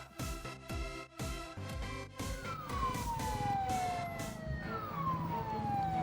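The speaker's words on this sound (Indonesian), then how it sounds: "petugas Satpol PP dari Dinas Perhubungan DKI Jakarta membunyikan sirine dan ajakan kepada para pengunjung untuk membubarkan diri" Siren sounded by Satpol PP officers at night in the Dukuh Atas area of Jakarta, wailing with falling sweeps over a steady loud rumble of crowd and traffic, preceded by a few sharp repeated blasts.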